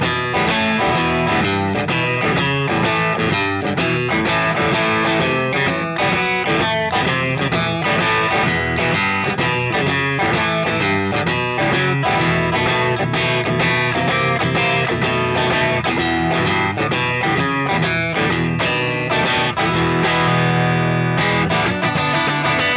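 Distorted electric guitar played through a Two Notes Torpedo speaker impulse response, giving a slightly hollow, nasal tone; dense chugging riffs and chords run continuously and loudly for about twenty seconds with no talking.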